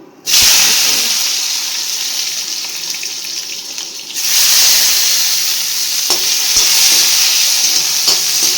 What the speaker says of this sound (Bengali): তেলের মধ্যে দিয়ে দিব বেগুন